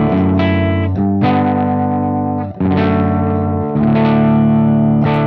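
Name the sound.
guitar signal through Bardic Audio HM Demon pedal EQ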